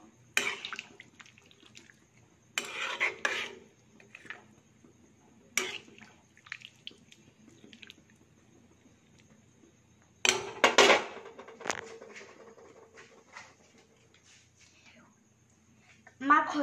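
Pork curry is stirred in a pot with a utensil, giving scattered scrapes and clatters in short bursts. Quiet gaps fall between the bursts, and soft talk comes and goes.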